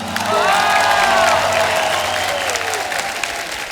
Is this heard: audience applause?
yes